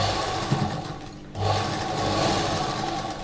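Close, continuous whir of a sewing machine stitching a slip, dipping into a short pause before the motor picks up again and runs steadily.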